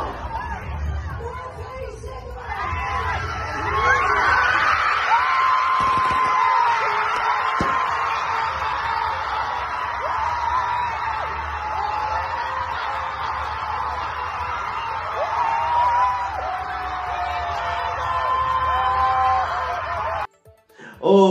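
Fans partying in Maceió after Rico's win, a sustained crowd hubbub of many overlapping voices, chatter and laughter, loud and continuous before cutting off near the end.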